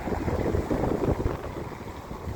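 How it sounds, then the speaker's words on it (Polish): Strong, gusty wind buffets the microphone in rough, surging bursts, with a broad roar rising and falling continuously throughout. "No są takie mocne zrywy tego wiatru."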